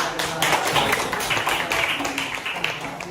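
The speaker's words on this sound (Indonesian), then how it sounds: "Oke, tepuk tangan." Hands clapping in a classroom during a religious education lesson, a short burst of dense, overlapping claps from a group at steady close loudness, mixed with some voices.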